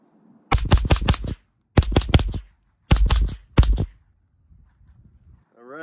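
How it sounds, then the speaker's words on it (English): AR-15 fitted with a CMMG .22 LR conversion kit firing outdoors, sharp close shots in quick clusters of four or five with short pauses between groups. "we're gonna go ahead and fire a couple rounds at this"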